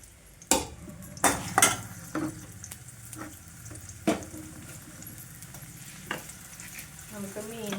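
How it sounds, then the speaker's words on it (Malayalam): Onion, garlic and curry leaves drop into hot coconut oil in a kitchen pan, with sharp sizzling bursts, clinks of a ladle against the pan and soft stirring between them, fairly quiet overall. "അപ്പോൾ നമ്മൾ ഉപ്പേരിക്കുള്ള വെളിച്ചെണ്ണ ഒഴിച്ചോ, ഉള്ളി വെളുത്തുള്ളി ഒക്കെ ഇട്ട് വേപ്പില."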